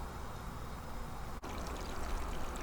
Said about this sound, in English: Now that we've emptied the jar contents